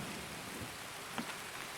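Heavy rain falls in the video game Escape from Tarkov, a steady, close hiss of drops pattering on surfaces, with a faint brief knock partway through.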